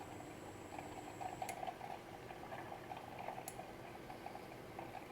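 Clarified butter (ghee) bubbles gently in a pan on the stove, a soft, continuous fizzing and popping heard close and quiet, with no talk.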